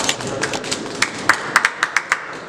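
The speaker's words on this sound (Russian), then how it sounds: "Ваши аплодисменты." Sparse individual claps at a youth boxing championship award ceremony, a scattering of distinct sharp hand claps building toward the end, fairly close, with faint murmuring in the hall behind.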